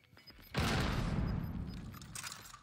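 Grenade blast in the online shooter Call of Duty: Warzone, a sudden loud burst that hits hard and then rolls on as a broad rumbling roar and debris wash that slowly thins out over a couple of seconds.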